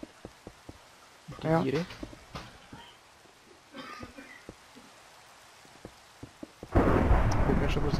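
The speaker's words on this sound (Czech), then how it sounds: "Ale chvilka ještě bude pršet." Rain pours loudly in Minecraft, a broadband wash arriving near the end, with sparse thunder-like rumbles and ticks earlier while people talk in Czech over it.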